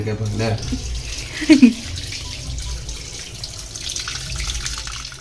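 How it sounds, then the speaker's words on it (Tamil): Raw chicken is rinsed under a running tap, a steady splashing water stream with a couple of louder splashes near the start, heard close with a voice speaking over it. "சூப்பர் சிக்கன் இப்போ கழுவிக்கலாம்"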